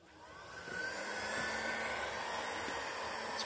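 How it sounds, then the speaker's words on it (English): An ordinary heat gun set to 1200 degrees blows hot air onto a VW Super Beetle air-cooled thermostat, a faint, steady whooshing hiss with a high whine that swells in the first second and then holds. "Okay, just an average heat gun."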